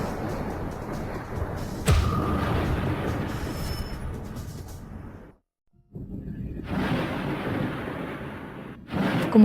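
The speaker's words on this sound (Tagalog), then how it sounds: "Kumukulog." Thunder rolls through a rainy evening as a loud, sustained broadband rumble, briefly dropping to near silence in the middle before the rumbling resumes and swells again at the end.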